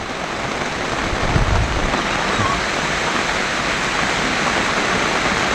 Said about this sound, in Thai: ฝนตกด้วยทุกคน ฝนตกแดดออก